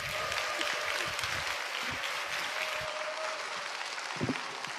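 A church congregation at a Friday evening service applauds as a pastor comes forward, a steady wash of clapping from many hands with a few stray louder claps.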